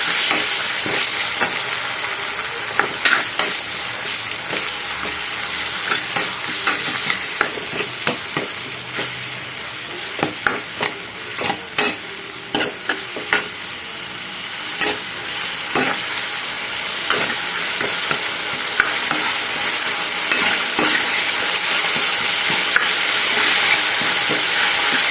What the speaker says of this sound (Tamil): இப்போ தக்காளியும் ஆனியனும் நல்லா ஃப்ரை ஆயிடுச்சு.